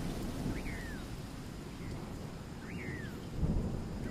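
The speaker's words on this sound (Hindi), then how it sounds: "जंगल में अभी बारिश शुरू है।" Steady cartoon jungle rain hissing throughout, with a low rumble of distant thunder and two bright chirpy bird whistles rising over it.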